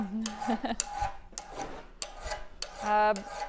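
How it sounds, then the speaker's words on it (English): A man working a hand file across metal, giving rhythmic rasping strokes in a steady series, close and moderately loud, with faint talk in the background. "They just want to watch a guy file?"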